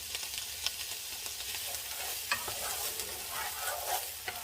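Chopped garlic sautés in a pan, a soft steady sizzle with frequent utensil scrapes and taps from stirring, close but fairly quiet throughout.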